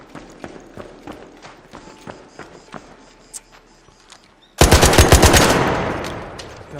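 In the video game Arc Raiders, a Tempest gun loaded with medium ammo fires a sudden loud, rapid burst lasting about two seconds. Before it come lighter, evenly spaced footstep-like thuds, and no voice is heard.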